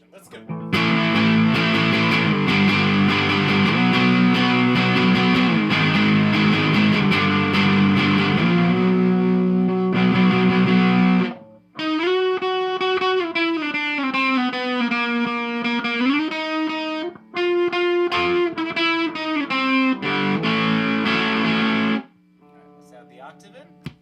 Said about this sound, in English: Alright, full distortion.